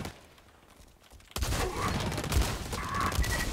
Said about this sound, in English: How many times I gotta shoot you?